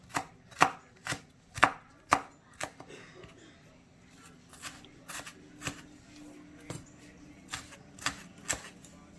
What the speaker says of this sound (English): And just giving it a nice rough chop, but not too big.